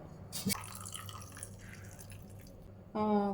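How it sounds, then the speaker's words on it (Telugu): Water poured over oats while preparing a sweetcorn oats vada batter gives a short splashing drip near the start, followed by quiet kitchen background and a brief voiced tone at the end. "ఈ ఓట్స్లో అయితే మనం కొంచెము వాటర్ యాడ్ చేసుకుందామండి"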